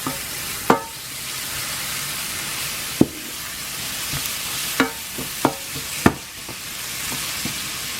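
Oil sizzles and fries steadily in a pan for Pad Thai sauce in a Lao home kitchen, with sharp utensil knocks and scrapes from stirring scattered through it, close and moderately loud.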